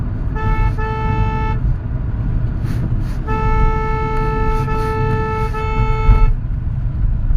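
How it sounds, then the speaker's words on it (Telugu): A car's horn toots twice on a road, a short blast then a longer held one, over steady road and engine rumble from a Creta car driving along. "క్రీటా అనమాట కారు"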